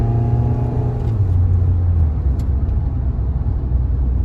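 Mahindra XUV700 AX7 L SUV accelerating hard from a standstill, a loud close engine roar with rising tones that shift downward as it changes gear, then a sustained heavy rumble, with no talking.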